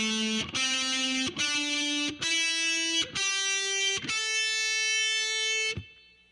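Heavy metal electric guitar with distortion plays a slow lick fretted on the B and top strings, six sustained buzzing notes struck one after another, each ringing until the next, loud and close with no talk.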